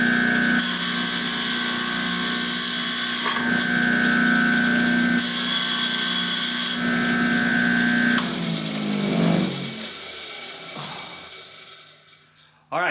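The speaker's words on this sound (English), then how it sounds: "let's take this blade to the wire wheel first to see if we can't determine what that marking is" A bench wire wheel spins steadily against a rusty vintage wood hand plane blade, a loud continuous whir with grinding rasp that drops away after about nine seconds as the wheel winds down, leaving faint handling noises.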